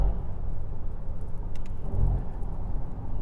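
Ford Next Gen XLT 2022 pickup with automatic transmission taking a curve in manual gear mode, a steady low engine and road rumble heard from inside the cab, with no talk.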